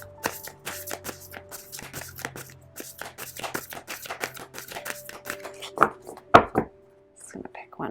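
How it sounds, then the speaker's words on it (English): Tarot cards are shuffled and drawn from a deck, producing rapid papery riffles and flicks close by, with a person talking softly over them and a few sharper card snaps near the end. "Let's get one of these cards here."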